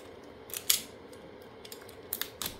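A small knife slicing through the plastic wrap on a 48V LiFePO4 battery pack built from A123 26650 cells, giving a few sharp close scrapes and snips spread over a few seconds.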